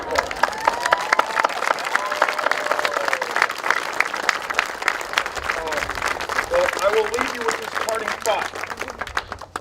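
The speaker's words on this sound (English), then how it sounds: "How about a round of applause?" Wedding guests clapping after the couple is pronounced husband and wife, a steady patter of nearby hands with voices and cheers mixed in, running the whole time and fading slightly at the end.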